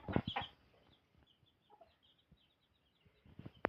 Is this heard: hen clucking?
yes